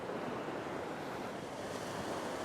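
Ocean waves surge and wash against coastal rocks at a fishing spot, a steady broadband roar with wind buffeting the microphone and no voices.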